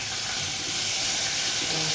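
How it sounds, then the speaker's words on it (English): Steady, dense sizzling of spices and curry leaves frying in hot oil, a continuous hiss with faint crackles, close and moderately loud, with no talking. "You can hear how they sizzle in the oil."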